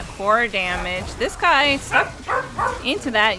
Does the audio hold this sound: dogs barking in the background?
yes